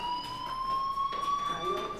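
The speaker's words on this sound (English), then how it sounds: "Hey, do you hear that fire alarm?" A fire alarm drones in Life is Strange, a steady electronic tone sounding at moderate distance, backed by a faint room hum with no one speaking.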